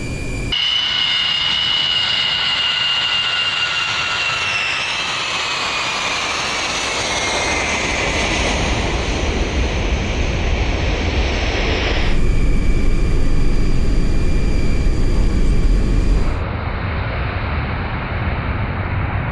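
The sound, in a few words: Ilyushin IL-76 aircraft taking off from the runway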